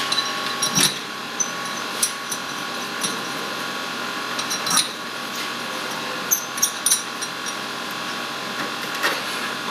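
Screws are driven in to fasten a direct shear test apparatus assembly, giving a steady mechanical whir broken by sharp clicks and knocks, close by and fairly loud.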